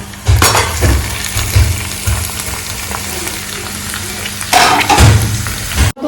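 Cumin, onion, green chilli and potato pieces frying loudly in a pan for jeera aloo, a steady close sizzle broken by a few sharp bursts and clinks as the food is stirred.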